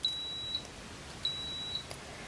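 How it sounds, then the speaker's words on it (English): A high rate seed sensor tester switching on gives two loud, high electronic beeps, each about half a second long, separated by a short pause, with faint soft clicks afterward. "It beeps loud as you turn it on."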